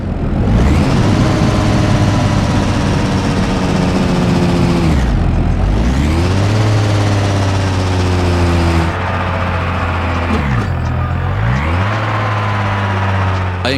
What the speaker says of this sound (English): Release slowly off the clutch pedal and you've just done a downshift.